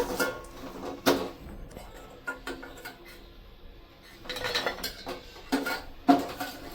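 Dry coconut fries in a pan while being stirred for payasam, heard as intermittent metallic scrapes and clinks of a spoon against the pan over a quiet sizzle, with louder clusters of strokes near the start and end.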